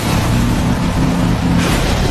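A car engine revs loudly and close by, a rough continuous roar with low throbbing that dips briefly and surges again, with no voices over it.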